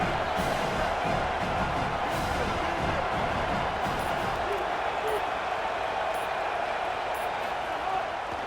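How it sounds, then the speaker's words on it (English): A large college football stadium crowd at an Alabama vs Mississippi State game roars continuously on third down, a dense, loud wash of cheering and noise that holds steady throughout. "The Tide crowd rolling noise down onto Saban Field on 3rd down."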